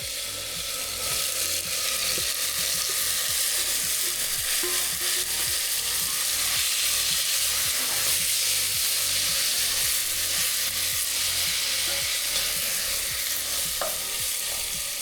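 Garlic and ginger paste frying in a pan, a steady close sizzle with scraping and stirring clicks running throughout, no voices.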